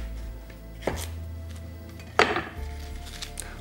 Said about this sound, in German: Der Lauch wird relativ grob geschnitten.